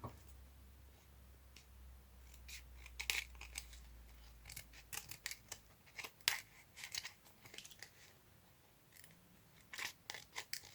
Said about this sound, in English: Still debating if I need to cut off this strip. Maybe I will.